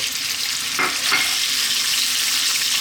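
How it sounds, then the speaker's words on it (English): Boneless leg of lamb, about half a kilo, fries steadily in a pan for a South Indian curry, a continuous close sizzle with a couple of brief stirring scrapes. "I want to cook this, fry this around for about 5 or 6 minutes"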